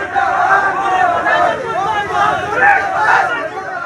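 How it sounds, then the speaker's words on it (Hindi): ABVP students protesting outside, a loud crowd of voices chanting slogans together with rising and falling shouts, close and continuous. "बाहर प्रदर्शन किया और मुर्दाबाद के नारे लगाए।"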